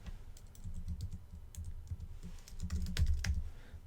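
Keys clatter on a computer keyboard as a short new name is typed into a field, arriving in two quick bursts of close, crisp clicks with soft low thumps beneath.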